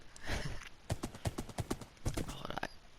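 Hooves clip-clop in quick bursts as a horse runs and jumps about 4.5 to 5 blocks high in a Minecraft-style survival server game, several clustered hoof strikes close and fairly loud, with a faint whinny.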